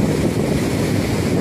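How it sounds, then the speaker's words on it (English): Small ocean waves break against a beach jetty, making a loud, steady roar with rumbling low surf and some wind buffeting the microphone, and no voices. "Little waves never hurt anybody."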